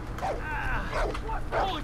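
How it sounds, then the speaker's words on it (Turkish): A dog in the video game Far Cry 3 gives a series of yips and whining barks that rise and fall in pitch, fairly close, over a low background hum. "Köpek bana geliyor yalnız sesi dikkat."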